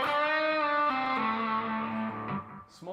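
Electric guitar through a Carbon Copy analog slapback delay into a small lunchbox amp, a single sustained chord ringing clearly and slowly fading, with a short final pluck.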